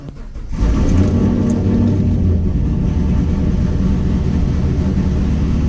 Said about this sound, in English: let's go ahead and fire the Camaro up and get started